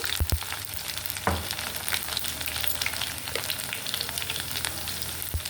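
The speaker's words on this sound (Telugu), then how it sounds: "ఇప్పుడు వెల్లుల్లి కొంచెం ఫ్రై అవ్వాలి" Garlic, mustard seeds, cumin and red chillies frying in oil for ginger chutney, giving a steady, close sizzle and crackle with a few sharp clinks of stirring throughout.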